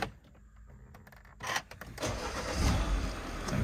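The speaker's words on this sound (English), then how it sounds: "I'll just start the engine up" A 2016 Mini Countryman Cooper cranks briefly and fires up, then settles into a steady engine run heard from inside the car, with no talking.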